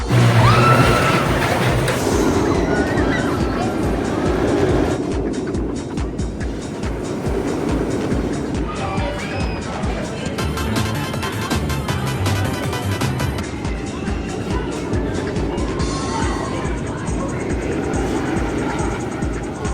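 Front-row ride on the Joker's Jinx launched roller coaster at Six Flags America: a loud, continuous roar of wind and rushing wheels on track for about twenty seconds, with rattling and clatter surging and easing through the circuit.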